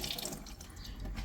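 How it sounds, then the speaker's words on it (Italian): Grade 3000 sandpaper is dunked in water for wet-sanding yellowed car headlights, a short, quiet splash and trickle of liquid. "prendiamo la 3000, la inzuppiamo così nell'acqua"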